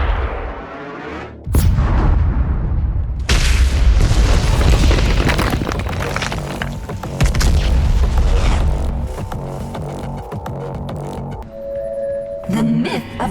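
A huge weapon blast goes off in the video game Doom Eternal, a deep, booming explosion that rumbles on for several seconds. Further heavy blasts and crackling debris follow, then a faint electronic tone.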